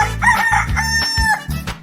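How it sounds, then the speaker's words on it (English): A cartoon chicken crows loudly at a splashing fountain, the cock-a-doodle-doo rising and falling in a few drawn-out bursts over a busy backing. "Chicken."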